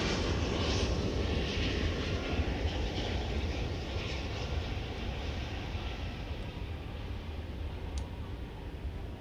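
A 26-year-old 1999 Boeing 777-200ER jet at DFW Airport, its engines a loud, steady, broadband roar that holds without a break and eases very slightly toward the end.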